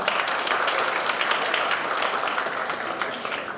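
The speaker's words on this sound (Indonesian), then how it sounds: "Sekali lagi kasih aplaus paling meriah untuk beliau." An audience at a Surabaya entrepreneurs' festival applauds the event committee chair, giving dense, steady clapping that fills the room at high volume for the whole stretch.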